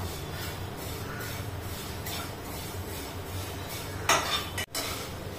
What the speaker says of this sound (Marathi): छान लाल होसतर भाजून घ्यायच्या या शेवाळ्या